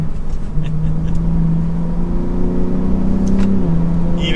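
A 2023 Ram TRX or Ford Raptor pickup engine drones steadily from inside the cab while driving, its pitch climbing as it revs up and then easing back down.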